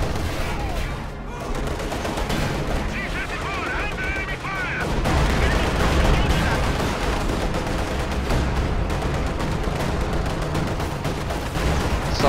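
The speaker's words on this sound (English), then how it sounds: "Assault artillery is falling on the victory point in the midst of this engagement" Assault artillery falling during a battle in a real-time strategy game with T-34 tanks, heard as constant loud gunfire and thudding explosions with rumbling engines, under excited commentary.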